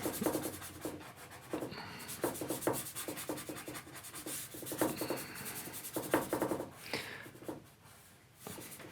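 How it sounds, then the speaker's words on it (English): A loosely held paintbrush scrubs an oil underpainting onto canvas in quick, repeated rubbing strokes, close and uneven in rhythm, with no talking. "I'm holding my brush so loosely you can see I'm just kind of holding it overhand and just kind of scrubbing this underpainting in"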